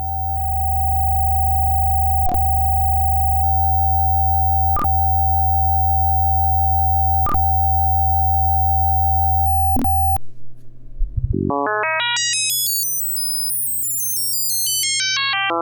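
Pure synthesizer sine tones from a self-similar synthesizer driven by an iterative number system: a steady held tone punctuated by four evenly spaced clicks, then a rapid stepped sequence of notes climbing high and falling back down, alone and fairly loud.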